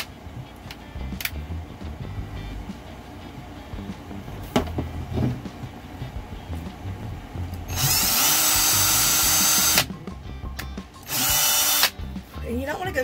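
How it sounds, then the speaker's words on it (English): An electric drill whirs loudly in two bursts, boring holes in the ends of a piece, a long steady run then a shorter one, between quieter handling noises and some background talk. "so you want to drill a hole in each end"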